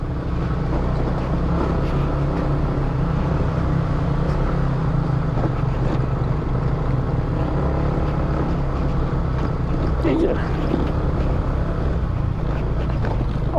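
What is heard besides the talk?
motorcycle engine riding on rough road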